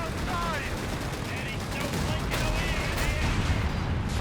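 Tank cannons firing rapidly in Company of Heroes 3 amid a dense, continuous battle din, with repeated heavy reports over constant rumble, all loud and close.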